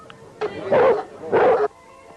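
A dog at a dog show gives two loud, fairly long barks about a second apart, close by, with quiet room tone before and after.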